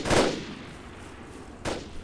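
Rocket launcher firing in ArmA 3 during an assault on armored vehicles: a loud whooshing blast at the start that decays into a rumbling tail, then a second sharp report near the end.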